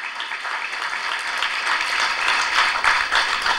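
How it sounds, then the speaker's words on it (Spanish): An audience at the opening of a continental assembly of social movements claps steadily for the hosts, a moderate, even wash of applause that swells slightly toward the end with no one speaking. "Otro aplauso para nuestros anfitriones"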